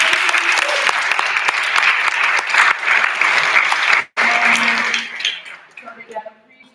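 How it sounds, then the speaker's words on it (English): Audience at a veterinary student congress general assembly applauds the announced award winners; dense, loud clapping fills the room for several seconds, briefly cuts out, then thins into scattered claps with faint voices and a light clink. "Give them a round of applause."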